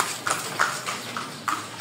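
Horse hooves clip-clopping quickly past on a street in Vigan, a brisk run of sharp hoof clops at moderate distance over a street background.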